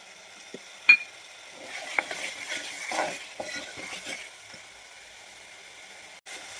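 Garlic-ginger paste with turmeric frying in a pan, a soft, low sizzle under occasional stirring scrapes and clinks of a spoon against metal, fading toward the end.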